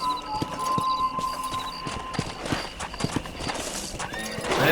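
Horse hooves clip-clop steadily at a walking pace in the Red Dead Redemption game, near and moderately loud, with a horse whinnying and a faint musical tone underneath.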